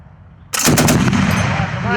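Silence, then a 12.7 mm DShK heavy machine gun opens up in a sudden loud burst of rapid booming shots that keeps rolling with echo to the end.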